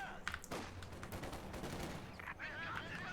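Machine-gun fire from an MG42 in a World War II strategy game battle, a dense, continuous rattle of bursts overlapping with other gunfire and battle noise throughout, loud and close.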